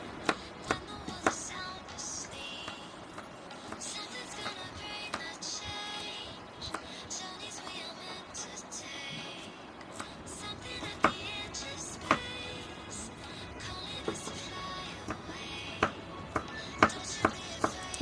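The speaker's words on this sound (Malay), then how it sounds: "Kita hiris semua bahan-bahan tumis darat kita." A knife slicing ingredients for tumis darat on a cutting board, a steady run of sharp, close chopping taps, irregular but frequent, growing denser toward the end over a quiet kitchen background.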